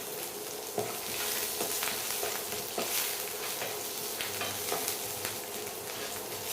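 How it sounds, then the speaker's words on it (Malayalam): Ginger, garlic and green chillies fry in oil in a pan, a close, continuous sizzle broken by frequent scraping stirs and small clinks, with no one talking. "ഇഞ്ചി ഇട്ട് കൊടുക്കാം. ഒന്ന് ഫ്രൈ ചെയ്യാം. പച്ചമുളക് ഇട്ട് കൊടുക്കാം."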